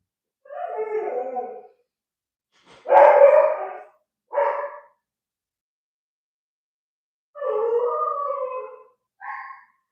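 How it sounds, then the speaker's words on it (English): A husky poodle mix dog howls and barks close by in loud, drawn-out vocal bursts separated by silences, some long and wavering, others short and clipped. "that's my dog. He's a husky poodle mix"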